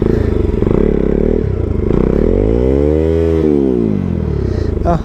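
A motorcycle stuck in the ground at a Dolalghat winter campsite revs hard near the mic, its engine pitch climbing and sinking in a long sweep, with clattering and scraping around it and no talk.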